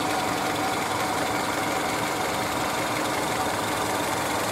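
A Honda Civic engine with a broken engine mount runs at a steady idle, a dense continuous rumble with a rough vibrating edge and no talk.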